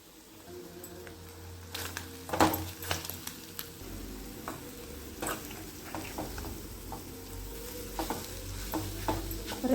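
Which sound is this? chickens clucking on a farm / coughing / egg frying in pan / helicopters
egg frying in pan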